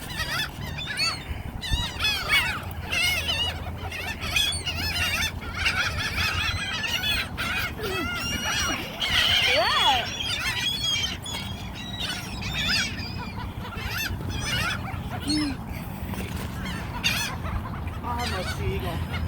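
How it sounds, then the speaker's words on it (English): Flocks of birds at a bird park in New Orleans make a dense, continuous chorus of honks, squawks and chatter close by, with people talking faintly underneath throughout. "Oh, there's birds behind me."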